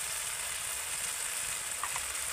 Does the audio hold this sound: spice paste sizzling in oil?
yes